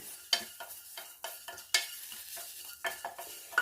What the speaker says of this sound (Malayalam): ചതച്ച കുരുമുളക്, ജീരകം, ഇതെല്ലാം കൂടെ ഇട്ടൊന്ന് ഡ്രൈ റോസ്റ്റ് ചെയ്യണം